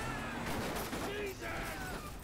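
Dense, continuous gunfire in the video game GTA V, a rapid crackling barrage with a short dip midway, mixed with game sounds.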